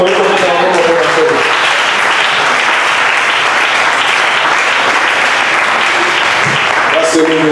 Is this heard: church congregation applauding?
yes